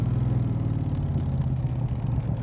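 A 1965 Shelby Cobra Backdraft engine rumbles steadily up close while downshifting, a deep throbbing idle-like drone with slight clatter and no voices.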